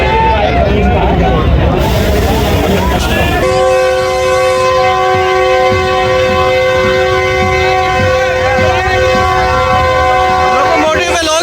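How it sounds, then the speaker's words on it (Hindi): A locomotive horn on the Sandal Express at Jhang Sadar Railway Station blares in one long continuous note after a burst of crowd noise, steady and loud, with a rumbling train and voices underneath. "ड्राइवर साहब विसल बजा रहे हैं ताकि सामने कोई ना आए"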